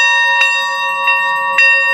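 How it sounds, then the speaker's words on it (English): A bell rung at a memorial ceremony honoring a fallen soldier gives three loud, close strikes, each blooming into a long sustained ringing tone that carries through the whole stretch without talk. "I would like to ring this bell to honor Sergeant Isaac Gallegos"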